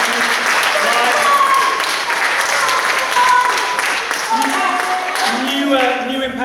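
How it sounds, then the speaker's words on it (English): An audience at a live gaming show gives a round of applause, steady clapping and cheering lasting several seconds while voices and whoops rise over it. "Give yourselves a round of applause."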